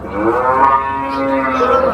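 A cow at a cattle market lets out one long, loud, close moo that lasts the full two seconds.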